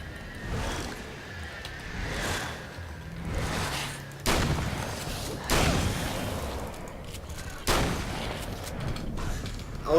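Shotgun blasts in Alan Wake's American Nightmare, several loud broadband booms spaced a second or two apart over rumbling game noise and music.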